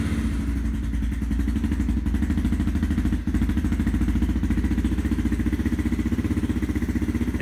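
A Yamaha TT-R230 dirt bike engine in cold weather, choke on, runs with a steady rapid thumping beat after starting, close and loud, with a brief dip partway through.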